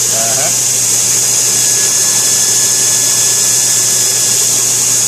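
Power grinder working a thick piece of steel, a loud, continuous high whine with a steady droning hum underneath, running unbroken the whole time.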